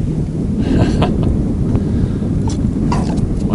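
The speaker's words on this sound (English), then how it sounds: "This wind's kicking up, so I don't know how well you're gonna be able to hear me or not" Strong wind buffets the microphone on an open fishing boat, a continuous loud roaring rumble with faint splashes and knocks in the background.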